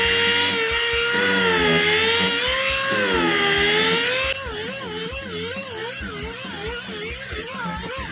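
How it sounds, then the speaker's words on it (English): A power tool sands Bondo filler on motorcycle seat foam with a loud, close, whining motor drone whose pitch wavers and warbles. It eases to a lower, pulsing whine partway through. "get the other side sanded down"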